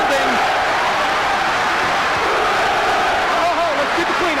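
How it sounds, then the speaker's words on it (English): Boxing arena crowd at a Lennox Lewis vs Evander Holyfield heavyweight bout, a dense, steady roar of cheering and applause filling the hall throughout, with a voice rising faintly above the din. "The applause is building."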